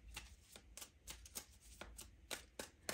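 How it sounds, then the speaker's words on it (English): Tarot cards are shuffled close by in quick, rhythmic riffling bursts, about a dozen soft slaps and rustles over a few seconds, fairly quiet and without talk. "We'll make a shuffle here."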